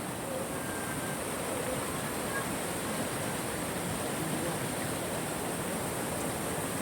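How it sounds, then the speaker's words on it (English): A waterfall on a river along a forest nature trail, heard as a steady broadband roar of falling and rushing water that holds constant for the whole stretch, close and loud, with no voices. "A beautiful waterfall."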